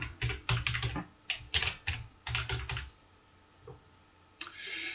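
A password being entered on a computer keyboard, close and clear: bursts of quick key taps separated by short pauses, ending in a single louder keystroke.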